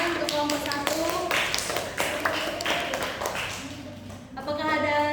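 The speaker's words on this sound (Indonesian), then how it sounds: "berikan tepuk tangan untuk kelompok 1." Students in an Indonesian primary school classroom clap for a student group during a teaching session: quick rhythmic clapping from a group, heard under a voice speaking and a voice.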